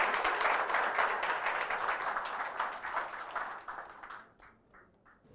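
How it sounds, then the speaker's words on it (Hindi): An audience of students at a UPSC coaching session claps to welcome a speaker, dense and loud at first, then thinning out and fading to scattered claps near the end. "प्रतीक नायक सर का अच्छी तालियों के साथ आप सभी लोग स्वागत करें"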